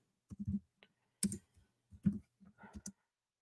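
Quick keystrokes and clicks on a computer keyboard during podcast setup, a few short bursts of taps spread across the moment, close and fairly quiet with no voices.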